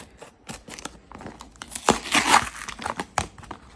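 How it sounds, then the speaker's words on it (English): Tape and packaging on a new Bible-size plotter are torn and wrestled open: close, irregular crinkling and ripping bursts, with the loudest tearing in the middle and no speech. "I'm struggling to get through this packaging"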